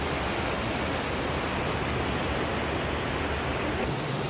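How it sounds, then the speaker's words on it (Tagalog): Strong, fast current of the Tinipak River in Tanay, Rizal, a steady loud broadband rush of flowing water filling the whole scene without a break. "Lakas ng agos oh. Napakalakas ng agos."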